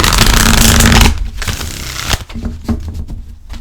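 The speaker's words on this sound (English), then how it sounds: "let's give this a quick shuffle" A deck of cards riffle-shuffled in one quick burst, then a few soft taps and shuffles as the cards are squared up, close by.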